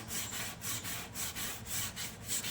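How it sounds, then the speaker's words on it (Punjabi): A brush scrubs a steel kitchen sink in quick back-and-forth strokes, a rhythmic, fairly faint rasping at about four strokes per second, close-up, with no talk. "ਇਸ ਤਰੀਕੇ ਨਾਲ ਆਪਾਂ ਇਹਨੂੰ ਰਗੜ ਲਾਂਗੇ ਸਿੰਕ ਨੂੰ"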